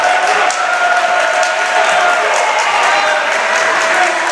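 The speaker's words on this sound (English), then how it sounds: "You hear the South Portland crowd getting into it a little bit." South Portland fans at a high school boys' varsity basketball game send up a steady wall of crowd noise, a broad cheering roar with scattered clapping that holds at a constant loud level throughout.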